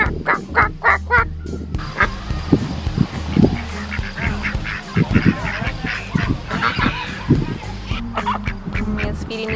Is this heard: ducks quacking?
yes